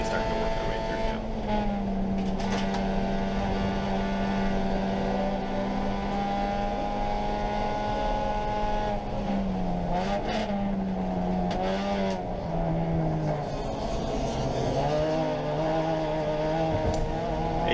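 Race cars at a national racing event roar past in a continuous engine drone, the pitch rising and falling as they accelerate and lift, with a voice talking faintly underneath.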